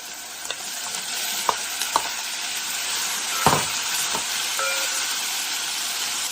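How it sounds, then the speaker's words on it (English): Onions and tomatoes fry in a pan with a loud, continuous hiss, punctuated by a handful of sharp stirring clicks and one heavier scrape partway through. "The onions have started to cook. At this point, add the tomatoes."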